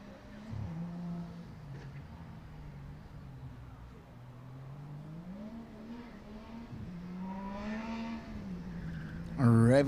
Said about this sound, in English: Revving the engine, going to the third corner, third hairpin, and heading to the chicanes.